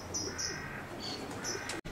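Racing pigeons in a stock loft, soft cooing and chirps among the birds over a steady indoor hum, close by and moderate in level.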